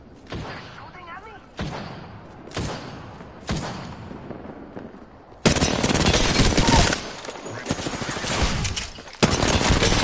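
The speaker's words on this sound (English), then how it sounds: "They're shooting at me?" Bursts of video game gunfire, with shots and broad rattling blasts that grow into a dense, loud barrage in the second half, while a player talks over the opening moments.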